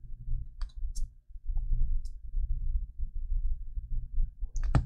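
2020 Topps Series 2 baseball trading cards being flipped over by hand during a hobby box opening, giving a few brief, soft clicks and flicks spread across the moment, over a steady low background rumble with no talking.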